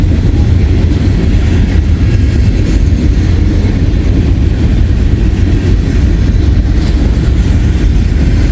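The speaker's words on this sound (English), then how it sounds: "This isn't a very long train though" A short freight train of around 300 axles passes close by in Hamilton, a loud, steady low rumble and rolling clatter of wagons holding without a break.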